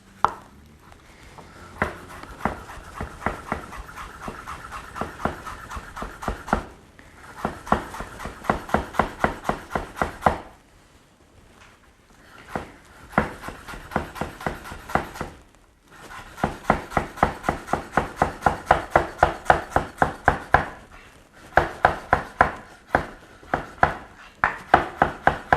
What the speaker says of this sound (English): So I've just chopped this coriander up.